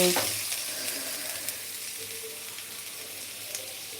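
Steady sizzling of bottle gourd sautéing in a hot pan, a continuous crackling hiss with a few small pops, no talking.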